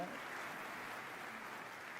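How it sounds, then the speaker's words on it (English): Steady applause from a conference audience at Unreal Fest Orlando 2025, a continuous wash of clapping at moderate, even loudness with no voices over it. "I'd like everyone to give a round of applause to Corey and Matt"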